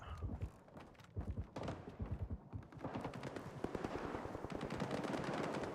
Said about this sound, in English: I can hear the gunfire